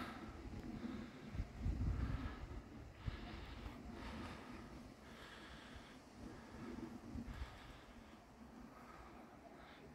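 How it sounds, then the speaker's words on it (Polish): Strong wind blows outdoors, a continuous low rumble and roar across the microphone with gusts swelling and easing at moderate loudness. "Straszny wiatr. Nienawidzę wiatru."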